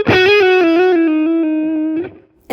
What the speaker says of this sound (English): you can get clean to really kind of overdrive and big with a lot of grit on it